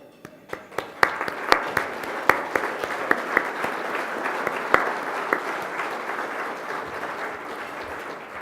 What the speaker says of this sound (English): would you please stand up so we can applaud you?